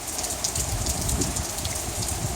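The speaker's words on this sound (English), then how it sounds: "Rain's coming sideways." Wind-driven rain in Oklahoma falling steadily and diagonally in strong wind, a dense continuous hiss of drops with no voices, loud and close.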